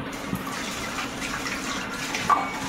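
Tap water running steadily into a sink for washing the face, a continuous even splashing hiss with a faint clink near the end and no talking.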